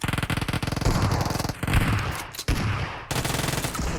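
Rapid automatic gunfire in PUBG on the Erangel map, dense repeated bursts of shots with short pauses between volleys, loud and close throughout.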